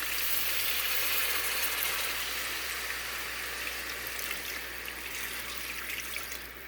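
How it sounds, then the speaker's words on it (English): Water runs in a steady, continuous stream into a pot of goat meat for Guyanese goat curry, a soft, even trickle and splash that tapers slightly near the end, with no talking. "I'm going to go ahead and I'm going to add in my water"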